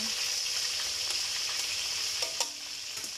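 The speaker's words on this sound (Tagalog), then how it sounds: "Lagay na natin yung bawang." Garlic frying in a pan for a chicken dish: continuous bright sizzling with a few faint clinks and stirring scrapes, close and moderately loud.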